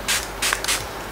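Three quick, close hissing bursts from a Napca face mist skincare spray, each a short breathy spritz with brief pauses between.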